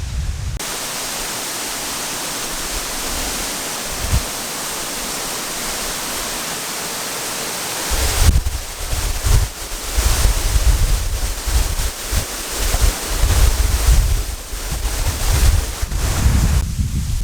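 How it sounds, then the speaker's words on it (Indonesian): Roaring rush of the Curug Cileat waterfall in Subang, West Java, a steady broadband wash that grows louder and rougher partway through, buffeted by strong wind gusts against the microphone. "jatuhan anginnya itu, jatuhan airnya itu gila, kenceng banget sumpah"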